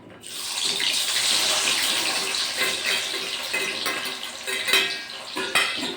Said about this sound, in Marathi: तर तेल गरम झालं आहे. तर आता कांदे टाकते.